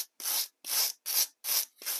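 Rhythmic scraping strokes on a carved foam-style sculpted rock surface for a model railroad scene, five even back-and-forth rasping passes, close and clear with short pauses between.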